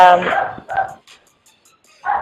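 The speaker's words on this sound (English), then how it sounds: "My neighbor has a dog." A neighbor's dog gives a few quick yappy barks and a whimper nearby, then falls silent briefly before one more bark.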